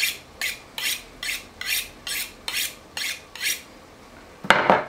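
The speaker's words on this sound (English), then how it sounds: "And if your knife feels like it's getting dull, pull out a steel," Kitchen knife honed on a sharpening steel in about nine evenly spaced, rhythmic metallic rasping strokes, close and clear, ending with a louder scrape.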